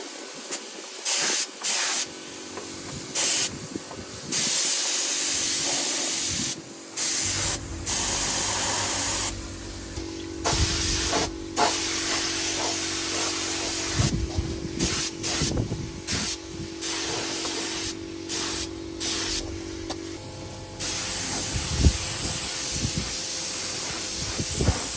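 Aerosol primer spraying in the engine bay of a Vauxhall Nova outdoors, long hissing bursts start and stop repeatedly with short gaps, up close, with gusty wind rumbling underneath.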